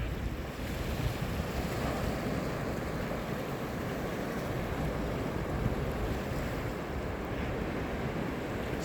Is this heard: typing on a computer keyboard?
no